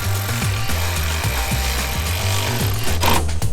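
Power tool driving two bolts into interior trim on a Ford Econoline van, loud close rhythmic ratcheting bursts in a fast repeating pattern that runs throughout with no pauses.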